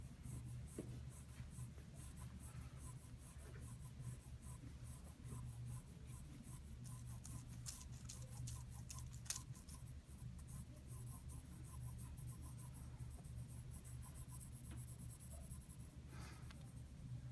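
Colored pencil scrapes lightly across paper while shading a brick wall in terracotta tones, a soft continuous scratchy rubbing with quick back-and-forth strokes, close and quiet, with a faint low hum underneath.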